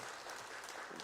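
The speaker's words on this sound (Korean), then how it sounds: "우리 하나님께 영광의 박수를 올려드리겠습니다." A church congregation at a Sunday afternoon worship service claps together, a dense, even wash of applause filling the room for the whole short stretch.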